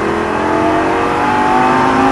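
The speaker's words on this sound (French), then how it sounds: "On reprend les gaz. Les gaz à fond." A Lamborghini Gallardo LP 560's engine roars loud and close at full throttle, its pitch climbing steadily as the car accelerates hard without a break.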